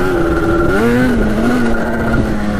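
A Yamaha Banshee quad's two-stroke engine revs nearby, loud and continuous, its pitch rising and falling as the throttle opens and eases off.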